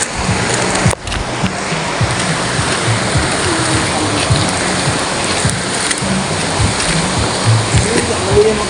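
Busay Falls waterfall in Babatngon, Leyte, gives a steady, loud, broadband rush of falling water that holds evenly throughout, with a brief dip near the start.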